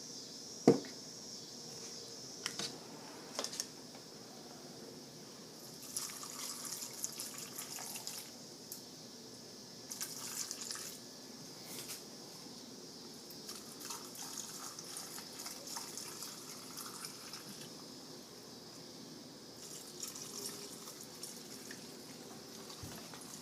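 Brine solution is poured into a jar packed with dill pickles, a steady trickling and splashing of liquid that carries on for a long stretch with small knocks and clinks mixed in.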